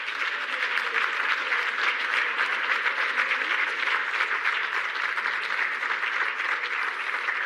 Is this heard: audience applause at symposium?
yes